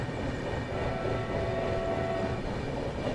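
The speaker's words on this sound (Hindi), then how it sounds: "अवध एक्सप्रेस उससे जा रही है।" The Awadh Express rumbling past through a railway goods yard near Kanpur Central, heard from a moving train as a steady, moderately distant rolling drone with faint wheel clatter and no talk.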